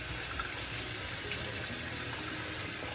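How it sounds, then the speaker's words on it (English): Cold water pouring from a tap over a tie-dyed cloth being rinsed, a steady close splashing stream that runs without a break, with no talking over it. "I start at one end with cold water this time."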